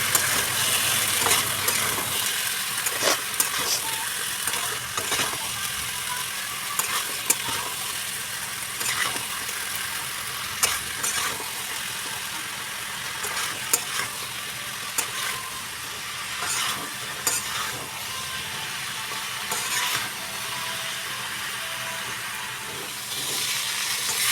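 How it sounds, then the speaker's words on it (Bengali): Spices and boiled chickpeas being sautéed in a pan for ghugni, a continuous hiss of frying with intermittent stirring scrapes, close and fairly loud with no talking. "আবারও সব মশলাগুলোকে একসাথে ভালো করে কষিয়ে নেব"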